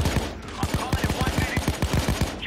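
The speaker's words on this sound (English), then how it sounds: "Someone's shooting me." Rapid automatic gunfire from the video game PAYDAY 2 crackles in quick, evenly spaced bursts, a dense string of sharp shots repeating for the whole stretch at moderate loudness.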